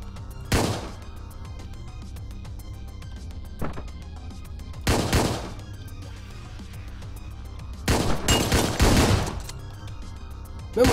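Gunfire in the top-down shooter game Hotline Miami 2: Wrong Number, sharp loud shot bursts at irregular intervals, a single blast, then a cluster of rapid shots near the end over a low steady music bed.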